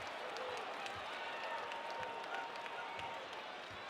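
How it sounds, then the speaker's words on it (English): A basketball arena crowd at T-Mobile cheers and applauds after a Baylor play against Virginia, a sustained wash of clapping and roar with a commentator talking over it. "That woke up this crowd here at T-Mobile."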